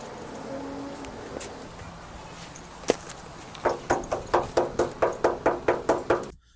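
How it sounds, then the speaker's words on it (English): A police officer knocking on a door and window during a Phoenix domestic violence call: a few isolated knocks, then a steady run of about a dozen firm, evenly spaced raps, close and loud. "So now he stops and knocks on a window."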